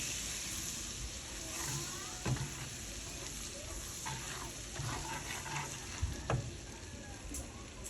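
Butter sizzles and crackles in a pan while sopas is being cooked, a faint steady frying hiss broken by a few scattered clinks and scrapes of a utensil.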